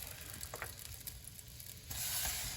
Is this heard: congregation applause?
no